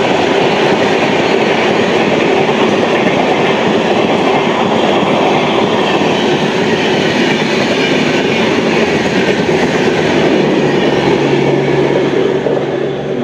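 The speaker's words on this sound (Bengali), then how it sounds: "লালগোলা G9 এর সাথে গরিব রথ এক্সপ্রেস" Garib Rath Express passing alongside the Lalgola train on the Sealdah division railway, a loud, steady roar of wheels and rattling coaches that holds throughout with no talk.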